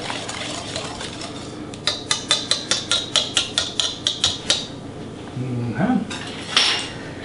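A utensil whisks crepe batter in a bowl, giving a quick run of rhythmic clinking taps against the bowl amid kitchen background noise.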